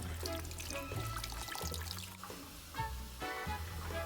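Water pours steadily into a cooking pot holding stuffed artichokes, a continuous splashing trickle heard close up with no talk, filling the pot about halfway up the artichokes.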